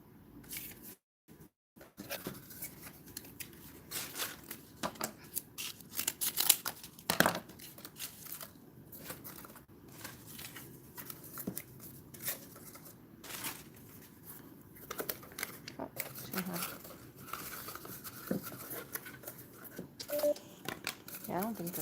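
Cardboard being crumpled and torn by hand while layering a faux plant pot, a busy run of crinkling rustles and rips close by, with a person talking over much of it.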